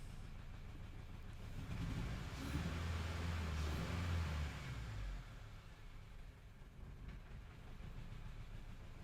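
A 2010 Honda Civic 1.4 engine with misfiring cylinders three and four is revved. A low, rough engine rumble swells for a few seconds, then settles back to an uneven idle, heard fairly close with no talk.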